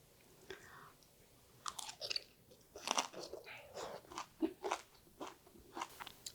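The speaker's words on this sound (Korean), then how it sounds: "그러면 한번 달지 않은 이렇게 고기를 싸서 한 입 먹어볼까요?" Crunchy bites and chewing of pickled wild garlic greens wrapped around meat, several close, crisp crunches in quick succession with wet mouth sounds.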